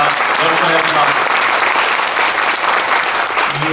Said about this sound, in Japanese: 小川選手に大きな拍手をよろしくお願いします。